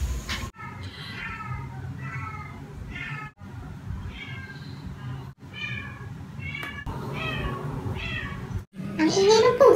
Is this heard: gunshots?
no